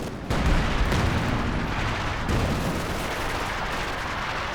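A howitzer artillery barrage in the Company of Heroes 2 video game is a loud, dense rumble of overlapping blasts that keeps booming and rolling throughout.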